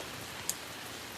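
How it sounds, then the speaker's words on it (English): Lake effect rain falling during a thunderstorm, a quiet, steady hiss of rainfall with one brief sharp drip or tap near the middle. "Normally what we get here is lake effect snow, but this is lake effect rain."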